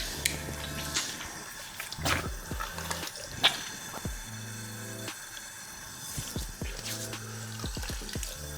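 Tap water running into a bathroom sink during washing up after a shave, with clinks and knocks of handling and a few short bursts in between, close by, with no talk.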